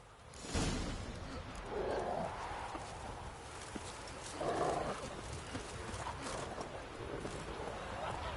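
Roach the horse gallops across terrain in The Witcher 3, with muffled rhythmic hoofbeats and an occasional snort under faint game ambience and a spoken voice.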